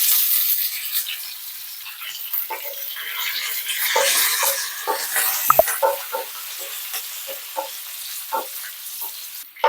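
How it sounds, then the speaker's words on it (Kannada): Garlic and curry leaves frying in a pan for a mushroom gravy, a steady close sizzle with scattered stirring scrapes and clicks running throughout, no voices. "ಇದನ್ನು ಸ್ವಲ್ಪ ಲೈಟಾಗಿ ಫ್ರೈ ಆಗಲಿ."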